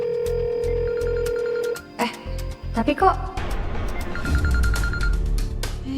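A mobile phone rings with a steady, repeating electronic ringtone, then stops as voices talk over a mix of other tones and background sound.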